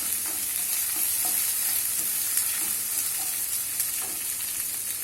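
Chillies sizzle steadily in a hot pan while a red amaranth stir fry is cooked, a soft continuous frying hiss with a few faint stirring taps.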